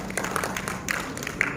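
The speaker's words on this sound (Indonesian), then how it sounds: "Tepuk tangan untuk Konawe Selatan." An audience at an awards event for regional education policy claps in a moderate, fairly dense round of applause, with a few sharper individual claps standing out over the steady patter.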